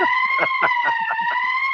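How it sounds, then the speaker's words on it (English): An electronic siren sound effect going off early during a phone call: a steady, loud, multi-tone wail with a quick rhythmic pulsing running through it, heard alone. "I get a premature siren"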